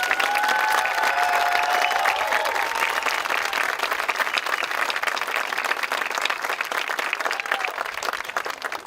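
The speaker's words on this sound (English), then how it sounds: "let's give them a big round of applause" Sustained applause from a large audience at a high school commencement ceremony for graduating students, dense and steady throughout with some cheering, loud and close.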